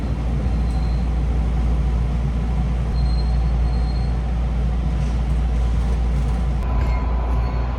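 A Yamatoji Rapid train pulls into Kizu station, giving a steady low rumble of wheels and motors throughout, with faint brief squeals and hisses near the end and no talking.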